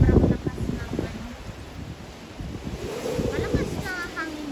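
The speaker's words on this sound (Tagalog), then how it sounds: "malakas na hangin dito sa amin." Strong gusting wind roars and buffets the microphone in an outdoor garden with flowering fruit trees, loud at first, easing, then rising again, with a voice speaking over it.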